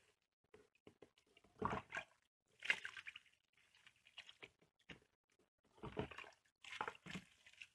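Water is poured onto potted plants growing in sphagnum moss, coming as several irregular bursts of splashing and patter with soft dripping and quiet gaps between them, close by.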